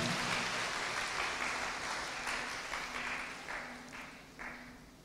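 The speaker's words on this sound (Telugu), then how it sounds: "వా, గట్టి చప్పట్లు కొడతామా?" A church congregation at a prayer centre in Warangal applauds, with dense, sustained clapping that carries on steadily and gradually thins toward the end.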